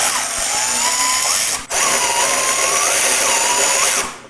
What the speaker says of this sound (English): So we're going to take this Torx out first.